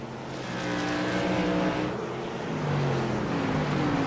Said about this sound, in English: This time, they stay side by side all the way around the racetrack